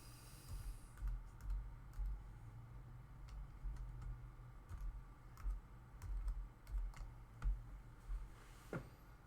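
Steady typing on a computer keyboard, a run of quick clicks and taps repeating throughout at moderate level, close by over a low background hum.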